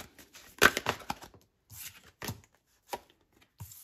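Tarot cards being drawn one by one from a deck, giving several short papery slaps and shuffling rustles spaced over a few seconds, close and fairly quiet, with no talking.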